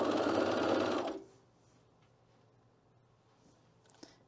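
A sewing machine sets a knit cardigan sleeve in flat, running in one fast steady whirring burst for about a second before stopping, followed by quiet handling and a soft tick.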